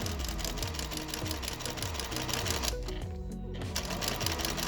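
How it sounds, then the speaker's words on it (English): Sewing machine stitching fabric for a scrunchie, a close rapid mechanical chatter with a rhythmic pulse and a short pause near the end. "go ahead and sew all the way down"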